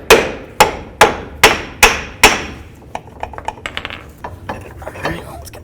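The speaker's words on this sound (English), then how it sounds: "Now I'm just going to take a nice hammer. I'm going to bonk the axle free from the differential." A hammer strikes a CV axle on a 1992-2000 Chevy Tahoe to knock it free from the differential, six loud, evenly spaced metallic bonks followed by lighter clinks and rattles.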